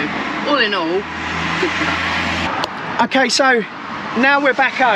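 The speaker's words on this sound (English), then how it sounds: "You'll have to excuse the road noise" Low road rumble inside a campervan on the move, steady at first and then largely masked as a person talks over it.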